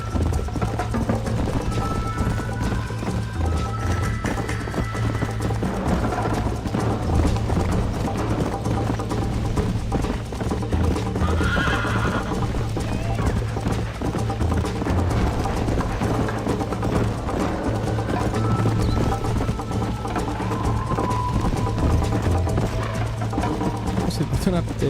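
Horse hooves clip-clop steadily, with an occasional whinny, in the Red Dead Redemption video game, blended with game music and a person talking over it.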